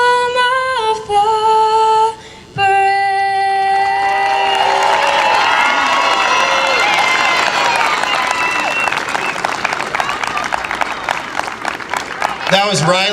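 A large outdoor crowd at a Little League opening day applauds and cheers after the national anthem, sustained clapping and whoops with children's shouts rising over the field, following the singer's last held notes.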